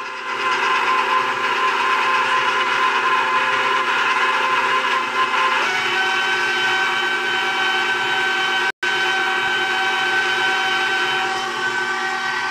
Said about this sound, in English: Alright, we're mixing.